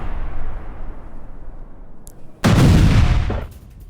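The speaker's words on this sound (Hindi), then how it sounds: "इसमें एक के बाद एक किस तरह से बड़े धमाके हुए हैं" Large blast from a Ukrainian strike on Cheboksary, Russia, in news footage: after a low rumbling background, a loud, sudden broadband boom erupts, roaring for about a second before fading into a lingering low rumble.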